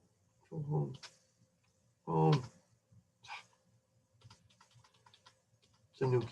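Keys clicking on a new computer keyboard, scattered light taps between louder bursts of a man's speech, close and fairly quiet.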